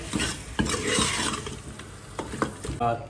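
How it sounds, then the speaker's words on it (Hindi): Beef sizzles in a hot pan with ginger-garlic paste while being stirred, scraping and clattering against the metal over a steady frying hiss, close by. "तो 2 से 3 मिनट अच्छे से हम भून लेंगे गोश्त को"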